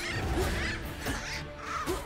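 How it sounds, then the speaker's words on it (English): Seagull cries from the video game One True Hero, with harsh, repeated squawking calls that ring out loudly over a dense game soundscape. "Oh, God, it's seagull noise."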